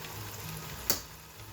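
Eggs frying in a pan for pad thai, a soft continuous sizzle with one sharp crackling pop partway through.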